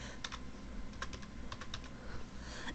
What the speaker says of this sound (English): I am going to type in Squirtle.